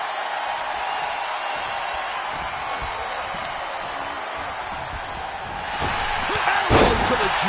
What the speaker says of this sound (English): Elbow to the jaw.